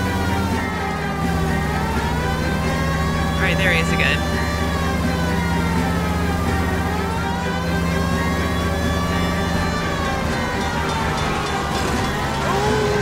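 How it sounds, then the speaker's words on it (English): A police car siren wails continuously through a video game chase in LA Noire, its rising and falling tone steady over engine rumble while a player talks over it. "I'm chasing a criminal in a police car."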